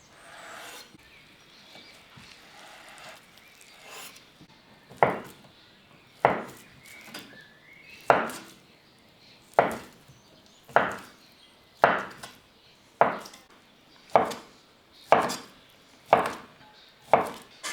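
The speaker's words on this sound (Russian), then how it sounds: "нарежем картошку." Potatoes being diced into small cubes with a knife on a cutting board for okroshka, a series of about eleven sharp, evenly spaced chops after some softer handling noises, close and clear with no talking.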